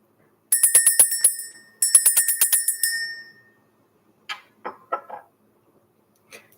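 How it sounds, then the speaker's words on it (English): A bell rung in two bright, ringing bursts of rapid strikes, each lasting over a second, followed by a few short, separate dings; clear and close with no talking. "Let's ring the bell."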